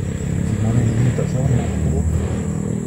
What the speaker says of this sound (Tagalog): May nakamotor mga idol.